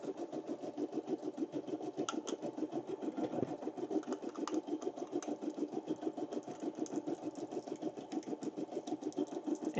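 Embroidery machine stitching puff embroidery, a rapid even mechanical chatter of needle strokes repeating steadily at close range with no other sounds.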